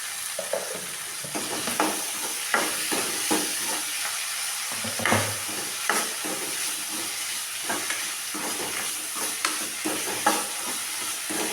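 Ingredients for drumstick leaf rice saute in a pan: a constant hissing sizzle broken by frequent clattering stirs and scrapes of a spoon against the metal, close and clear, with no one speaking.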